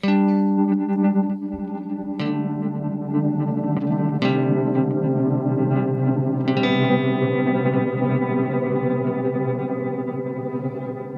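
Guitar runs through a shimmering granular effects pedal, sustained chords smeared into dense, echoing textures with sharp new attacks every couple of seconds.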